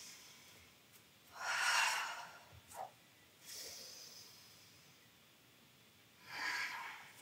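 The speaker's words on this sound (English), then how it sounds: "Two big breaths." During a yoga session, a person nearby takes two deep breaths, each a long, airy inhale or exhale that swells and fades, with a softer breath between them in a quiet room.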